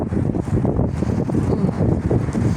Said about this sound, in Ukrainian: А тут вітер зриває з мене капішон.